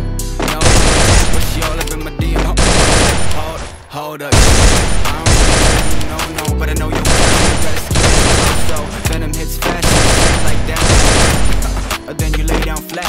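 Submachine guns fire in Free Fire on a practice range, loud rapid bursts of automatic fire lasting a second or so each, separated by brief pauses, repeating across the whole stretch.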